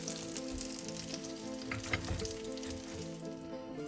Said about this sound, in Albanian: do t'i skuqim në temperaturë mesatare duke i rregulluar nga njëra anë tjetër